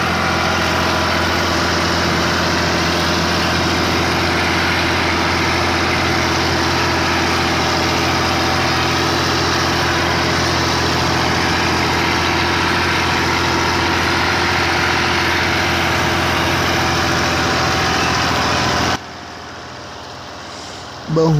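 A tractor engine idles after being pulled free of sand at a village wedding, a loud, close, steady low diesel drone that runs unbroken for about nineteen seconds before dropping away abruptly.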